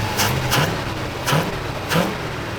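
An old V8 Buick LeSabre, revived after sitting for 34 years, revs in three short, close blips with a steady idle rumbling between them.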